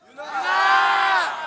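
A crowd of students at a televised stage event bursts into loud, sustained cheering and high-pitched shouting, rising quickly and holding for over a second, close and filling the space.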